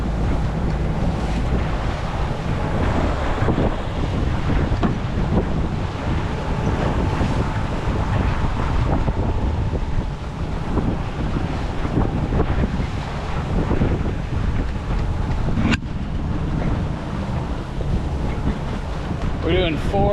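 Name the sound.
strong wind on a sailboat at sea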